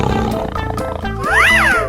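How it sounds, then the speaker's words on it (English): Cartoonish tiger roar from a 3D animal sliding video game, a single rising-and-falling roar at the end over bouncy game music. "Tiger."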